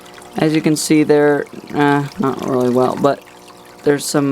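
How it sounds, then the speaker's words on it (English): A steady, quiet pour of water runs beneath a voice as a fish tank is filled, continuing through the pauses in his talking. "Sorry about the water noise, I just need to fill the tank up a little more."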